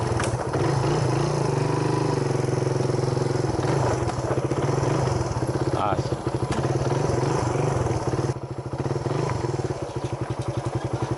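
A motorcycle engine idles close by at a duck farm with a steady low rumble and occasional clatter, while people talk over it.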